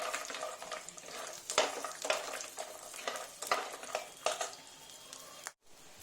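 Bori lentil dumplings fry with nigella seeds in hot oil, crackling and sizzling up close while a spatula stirs in quick repeated scrapes against the pan.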